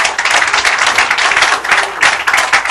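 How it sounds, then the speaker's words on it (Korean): A church congregation claps together in loud, sustained applause, a dense crackle of many hands filling the hall with slight swells in intensity throughout. "박수 부탁드립니다."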